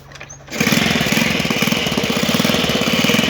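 A Ford F75 engine catches and runs after the choke is pulled, in a rapid, loud, close putter with a steady pulsing rhythm, following a quieter moment. It is rough and leaking, with small exhaust pops, and no one speaks over it.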